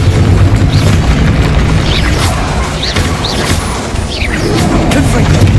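Bombarda blasting spell cast in Hogwarts Legacy, a loud, dense burst of magical explosions and crashing impacts that rumbles continuously, with a few brief whooshing sweeps over the constant low roar.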